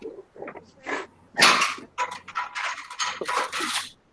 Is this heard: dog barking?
yes